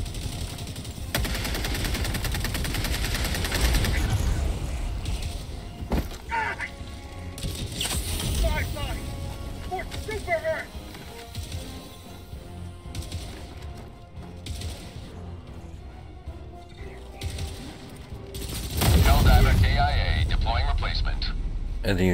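Rapid automatic gunfire and crashing explosions from the shooter video game Helldivers 2 come in loud bursts, with heavier impacts near the end, while players talk over the combat.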